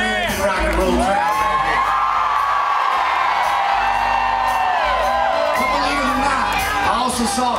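A large rock and roll crowd at a Kid Rock show on a cruise ship cheers, whoops and shouts loudly and continuously, with voices rising and falling in waves.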